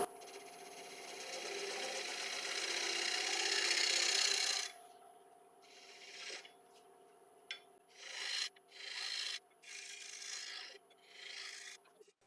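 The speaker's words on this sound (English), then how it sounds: "So little 1-inch shear scraper, just take a little bit off that" A 1-inch shear scraper trims a split oak platter spinning on a wood lathe: a steady, close rasping scrape for several seconds, then a run of short, separate scraping passes with brief pauses between them.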